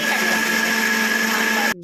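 An electric mixer grinder whirs steadily, loud and close, as it grinds a paste of onion, ginger, chilli and cashew. The motor hum runs without a break and then cuts off abruptly near the end.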